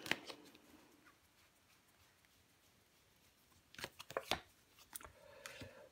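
Tarot cards are handled and laid down on a table, giving faint soft rustles and a quick cluster of sharp flicking taps near the middle, then a few lighter taps.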